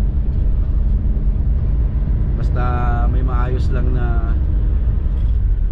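A Toyota Altis 1.8 drives along an expressway, giving a steady low road and engine rumble throughout while someone talks over it in the middle.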